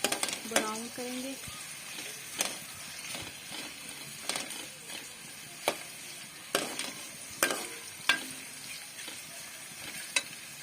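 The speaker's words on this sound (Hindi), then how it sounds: "प्याज को हम ब्राउन करेंगे।" Onions browning, sizzling steadily in a hot pan, with occasional spatula scrapes and clinks against the pan and brief faint sounds in the background.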